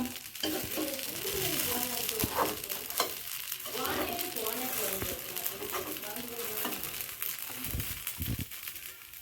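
Karupatti paniyaram batter cooking in a pan with jaggery, a continuous soft sizzle and bubbling crackle, close and moderately quiet, with scattered faint clicks.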